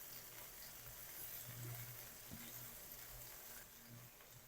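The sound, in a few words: garlic ginger paste frying in pan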